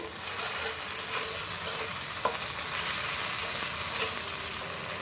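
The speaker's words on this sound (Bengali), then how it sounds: "মশলাটা কষানো হয়ে গেছে তেল ছেড়ে দিয়েছে" Spice masala stir-fried in oil in a pan, a soft continuous sizzle with a few light stirring scrapes and clicks, close and steady, with no voices.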